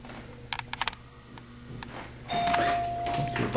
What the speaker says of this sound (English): That's a modern doorbell